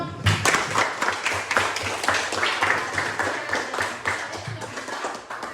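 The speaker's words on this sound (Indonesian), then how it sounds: "Tepuk tangan untuk semua" A classroom of junior high students at SMP Negeri 6 Merauke claps together, a lively patter of hands with a loose, pulsing rhythm that carries steadily and close throughout.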